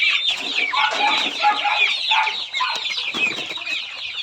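A flock of chickens, including Buff Orpington, Rhode Island and Shamo breeds, kept in a coop with a cage, clucks and chatters nonstop at close range, with overlapping calls and no speech.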